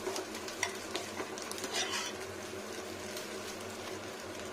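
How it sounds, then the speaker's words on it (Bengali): Vegetables, raw papaya for a fish-roe curry, frying in oil in a pan, with a steady broadband sizzle and occasional scraping strokes of a stirring utensil, close and continuous with no talking. "আরো তেল দিতে হবে, একটু ভাজা যাক।"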